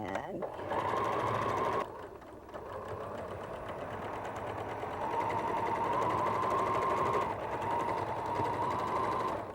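A sewing machine runs steadily while stitching quilt seams, holding a continuous mechanical whir for several seconds after a short pause, close and clear, with a person talking over it.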